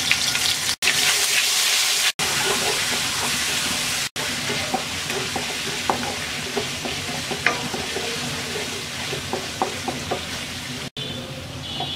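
Whole spices like cinnamon and cardamom, plus ginger paste, hiss and sizzle loudly in hot oil, a continuous close fry broken by brief cuts, with light clicking stirs scattered throughout.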